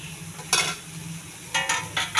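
Beetroot fries in a pan, with a soft sizzle in the background and a few short bursts of stirring and scraping against the pan, three of them close together near the end.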